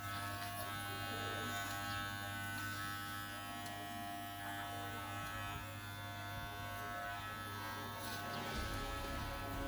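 Electric clippers trimming a dog's fur during grooming, a steady faint mechanical buzz that runs throughout with slight changes in load.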